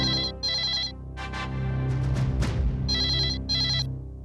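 A telephone rings in repeated double bursts, with a busy, buzzing electronic passage between the rings.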